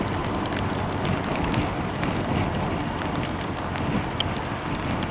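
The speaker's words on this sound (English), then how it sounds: "First time out in the rain." Hard rain falls steadily on a motorcycle rider in Halvarssons Walkyr rain gear, a loud, even hiss mixed with wind rush and no voices.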